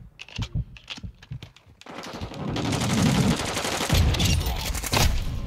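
Gunfire in Call of Duty MW22 multiplayer: a few sharp, separate cracks, then a loud, dense burst of shooting and impacts that keeps going without a break.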